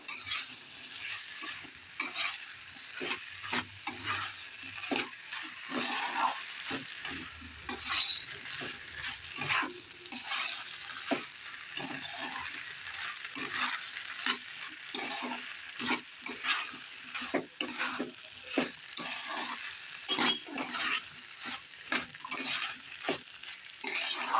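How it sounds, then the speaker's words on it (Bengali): Vegetables and spices are stirred and fried in a pan for a Bengali vegetable dish, with a soft continuous sizzle under frequent rhythmic scraping strokes of a spoon against the pan, close up and with no talking. "এখন আমি এগুলো দিয়ে দেবো ভালো করে কষিয়ে নেবো"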